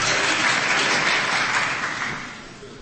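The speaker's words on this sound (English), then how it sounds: "The courtroom will be cleared if there's any more clapping" Courtroom audience clapping, a dense burst of applause from many hands that holds steady and then tapers off toward the end, with no talk.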